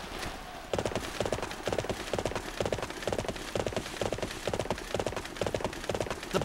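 Horse hooves clip-clop at a brisk, even trot in the video game Dynasty Warriors 7, with sharp rhythmic hits continuing close and loud after a short quieter lead-in.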